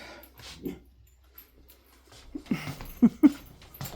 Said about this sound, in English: You're barking at the neighbors.